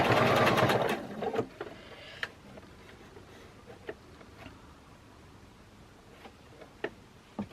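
A sewing machine stitching a rope bowl whirs loudly in a fast rattling run for about a second, then falls quiet, leaving scattered soft ticks and clicks.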